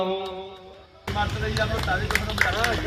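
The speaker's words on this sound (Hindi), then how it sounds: "जोरदार तालियां बजती रहे।" Applause breaks out abruptly at a Bihar political rally and keeps going loud and dense. Crowd noise and scattered shouts mix into it, and a voice speaks over the crowd before and during the clapping.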